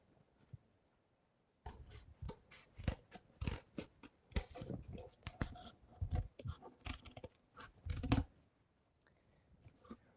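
Scissors trimming around the bottom edge of a handmade piece, a run of close, crisp snips and crunchy cuts in irregular bursts after a quiet start, ending in near silence.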